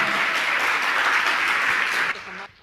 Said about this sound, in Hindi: जोरदार ताली बजाएं इनके लिए।